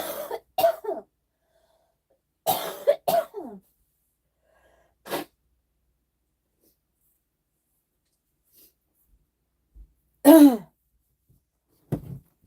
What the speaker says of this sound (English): I'm so sorry, you guys. This cough.